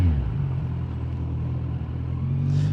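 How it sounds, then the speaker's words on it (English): A Subaru WRX with a boxer four-cylinder engine rumbles nearby in slow motorway traffic, a steady low throaty drone that swells slightly toward the end. "ooh, boxy 4 engine. Love the sound of those."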